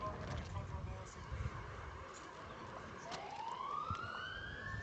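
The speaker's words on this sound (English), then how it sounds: "We can hear some sirens." Police sirens wail in the distance during a lawn bowls pairs game, a rising tone sweeping up over outdoor background noise while someone talks.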